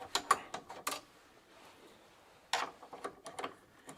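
Loosening a nut on a Sturmey Archer rear drum brake hub, with quick metallic clicks and ratcheting ticks in two short bursts separated by a quiet pause, close and faint.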